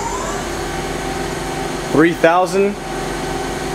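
Hyundai Kia SKT15 CNC turning center with its spindle running at 15,000 RPM, a steady mechanical hum with tonal whine throughout, briefly under a voice.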